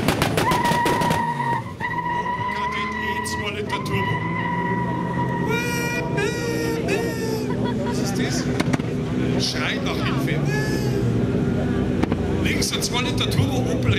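Race cars at the start of an airport race in Vilshofen, an Opel Kadett E 2-litre turbo and a 1.8 turbo VW Golf, revving hard with squealing tyres and rising engine whines, under steady commentary.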